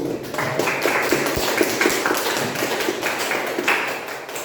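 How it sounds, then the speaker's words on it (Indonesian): Classroom applause for a student's answer about aluminium, a dense run of many hands clapping steadily for about four seconds, fairly loud and close, without talk over it. "tepuk tangan untuk aluminium"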